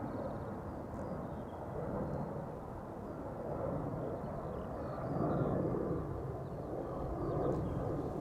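A KLM passenger jet departs Amsterdam Schiphol Airport, its engines producing a distant low rumbling roar that swells and ebbs steadily throughout.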